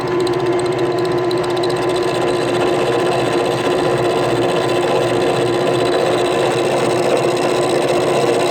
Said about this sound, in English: Gotta go slow because I'm using a drill press.